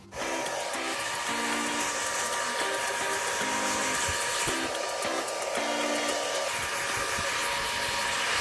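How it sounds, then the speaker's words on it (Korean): A hair dryer blows steadily and loudly, drying hair just treated with essence; the whirring airflow runs without a break, with faint background music tones underneath. "이렇게 드라이기로 멀리를 말렸는데요"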